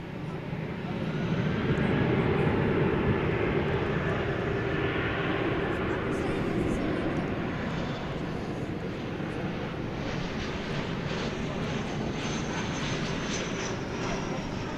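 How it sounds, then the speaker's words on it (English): An Airbus A320 built around 2000 departs Dallas/Fort Worth for San Francisco at night, its broad engine roar loud and steady throughout, with a voice talking over it. "This is an Airbus A320 from the turn of the century."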